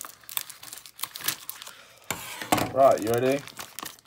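A coin parcel is cut open and unwrapped, its packaging crinkling and rustling in short bursts close by while a person talks over it.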